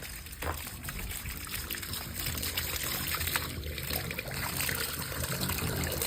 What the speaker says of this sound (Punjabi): ਦੇਖੋ ਗੰਦਾ ਪਾਣੀ ਆ ਰਿਹਾ ਹੁਣ ਪਾਣੀ ਵੇਖੋ ਕਿੰਨੇ ਪ੍ਰੈਸ਼ਰ ਨਾਲ ਨਿਕਲਦਾ ਪਿਆ ਆ